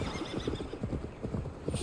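Quick, steady clip-clop of horse hooves trotting in the video game Assassin's Creed Valhalla, close and rhythmic, with no talking.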